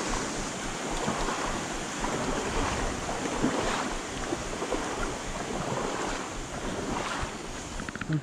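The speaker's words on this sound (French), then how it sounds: "l'eau qui tombe du pont." Water pours steadily off a bridge into a river below in heavy rain, a loud, continuous rushing wash mixed with gusty wind noise on the microphone, no voices.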